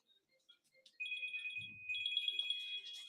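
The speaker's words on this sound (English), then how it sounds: "My phone's ringing at the moment" A mobile phone rings faintly in a quiet room, a steady electronic tone starting after a moment and continuing with a pulsing pattern, accompanied by a brief soft rustle.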